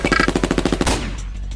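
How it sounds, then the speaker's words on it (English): A Walther MPL submachine gun in the I/O visual novel fires a rapid burst of sharp, loud shots in close succession, followed by a fading echo. "I pull the trigger and the gun releases a 3-round burst."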